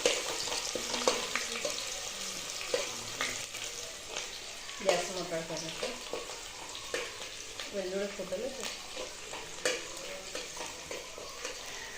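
Onions sauté in a hot pan with bay leaf for masala rice, a continuous close sizzle broken by stirring scrapes and light taps as someone talks over it at times.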